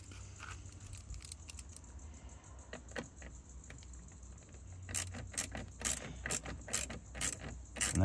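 Screws being checked and tightened on a Next Gen Ranger / Everest passenger-side cup holder, with soft ratcheting clicks and light metallic taps close by, growing busier toward the end.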